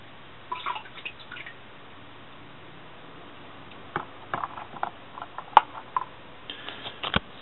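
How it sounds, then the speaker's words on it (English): A scattering of soft, irregular drips and small taps of a hydrophobic solution onto a camera lens, isolated at first then clustering, faint against a quiet background with no talking. "test tubes of the solution, so I'll drip it. I'll pour it on the lens so you can see"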